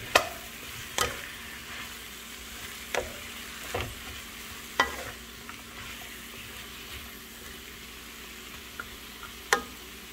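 Sliced chayote frying in a pan: a quiet, continuous sizzle with occasional sharp scrapes and knocks from a utensil stirring the pieces, close by, with no talking.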